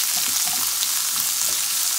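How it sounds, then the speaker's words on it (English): Onions fry in a pan for an Indian red curry, giving a loud, steady, dense sizzle and hiss that carries on evenly throughout with no voices. "We're gonna cook the onions now"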